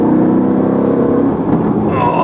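A Ferrari with a 4-liter twin-turbo engine revs loudly and close by, a deep, rough exhaust roar that holds steady and then shifts pitch near the end.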